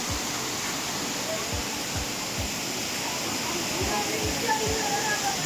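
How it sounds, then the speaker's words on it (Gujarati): Steady roaring rush of a waterfall at Sundha Mata, Rajasthan fills the scene, a dense continuous hiss with low thumps underneath. "પાણીનો એટલો બધો ધોધ છે કે તમારો અવાજ પણ નહીં સંભળાય."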